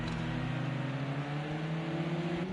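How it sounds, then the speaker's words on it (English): A Mercedes touring race car accelerates down the straight at Laguna Seca, a steady engine drone with rising pitch sustained throughout, loud and continuous with no voices over it. "That Mercedes showed a good bit of power then, yeah, down the straight"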